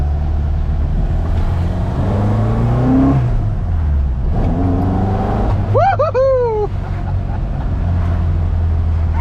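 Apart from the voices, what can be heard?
Ford Mk1 Escort rally car engine accelerating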